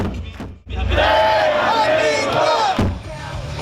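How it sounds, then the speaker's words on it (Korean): A street crowd dressed in red chants a Korean football team cheer, many voices shouting in rhythmic unison, loud and close, with a few thumps before the chant swells. "붉은 옷을 맞춰 입은 시민이 축구대표팀 응원 구호를 목청껏 외칩니다"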